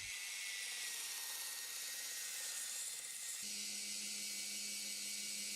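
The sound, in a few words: Proxxon BS/E belt sander running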